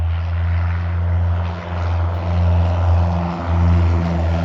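A small propeller plane coming in to land, its engine droning steadily and close throughout with a low harmonic hum, briefly dipping in level before swelling again.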